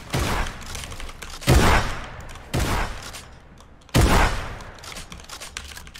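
Enemy gunfire in Fortnite comes from a distance as three loud, sharp bursts of rapid shots spaced a second or two apart, with quieter rattling between them and no talk.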